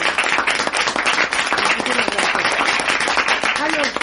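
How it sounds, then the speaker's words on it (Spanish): An audience breaks into loud, dense applause at the end of a lecture, with clapping filling the room nearby as a voice talks over it. "Borrad el aplauso."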